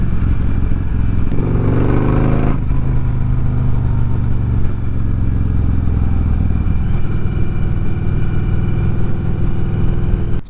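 A 2003 Victory Vegas motorcycle pulls hard in first gear, its engine roaring loud and close, with the pitch climbing early on before it settles into a sustained heavy drone.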